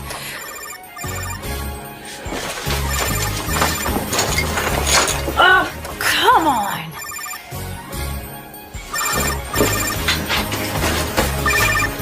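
A telephone rings repeatedly in a farmhouse amid a busy, cluttered scene with crashing and clattering noises, and a voice speaks briefly over the ringing.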